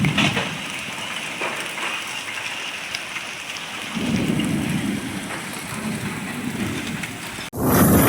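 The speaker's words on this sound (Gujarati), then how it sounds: "જો ઉપર કરા પડે અત્યારે જોરદાર." Heavy rain with hailstones pounds down during a windy storm in Sayla village, a loud continuous roar with a deeper rumbling surge midway, then an abrupt break near the end.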